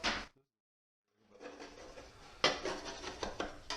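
After a short sharp scrape and a pause, a rough, continuous scraping of dried skim-coat joint compound starts up against a wall, grating and uneven, with no voices.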